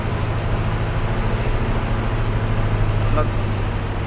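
A cement mixer truck's engine drones low and steady while the truck drives down a mountain road under braking, with someone talking over the constant rumble.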